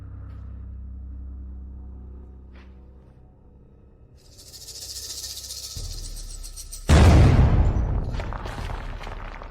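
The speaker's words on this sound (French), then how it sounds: "Où est l'explosion?" Explosion in a drama: a low rumble and rising hiss build up, then a sudden loud boom bursts in and keeps roaring with crackling debris to the end.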